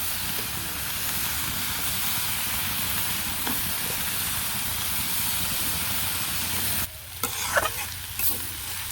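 Vegetables sizzling and frying in a pan with chili powder and turmeric, a steady close hiss that breaks briefly near the end with a few clinks of stirring.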